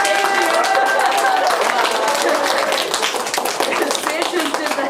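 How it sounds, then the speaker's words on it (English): Audience members clap during a talk, a brisk, fairly loud burst of hands that carries on throughout, with voices heard over it. "Oh yes, let's clap for them."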